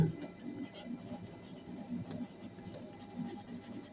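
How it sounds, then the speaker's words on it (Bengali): Writing on a board or page during a sixth-grade maths lesson on ratios, a soft continuous scratching with steady strokes, close and fairly quiet, under low room noise. "তো আমরা এখানে লিখব"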